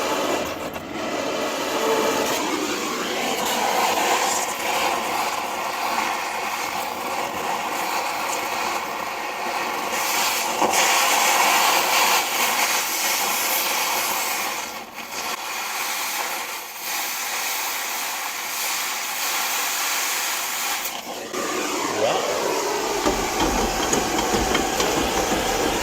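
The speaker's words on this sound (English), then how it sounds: "I'll turn it way up and try to push that flame all the way through that plate." Cutting torch turned way up, its flame roaring and hissing steadily as it pushes through a metal plate, a loud broadband rush lasting over twenty seconds with brief dips and surges.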